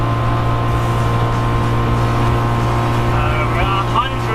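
A 1972 Honda TN360 kei car engine drones loudly and steadily from inside the cabin, a constant buzzing hum while driving at about 100 on the speedometer.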